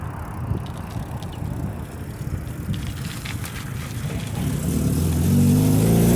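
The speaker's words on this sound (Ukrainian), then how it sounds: "Пропустимо машину." A car drives past on a road, its broadband engine and tyre noise swelling louder toward the end as it nears, with a low steady hum joining in the last second.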